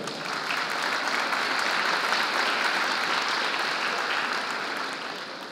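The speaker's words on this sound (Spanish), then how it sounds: "Ahora sí, les demos un aplauso." Audience applause fills a teachers' training workshop, a dense, steady wash of many hands clapping that holds strong throughout and eases only slightly at the end, with no speech over it.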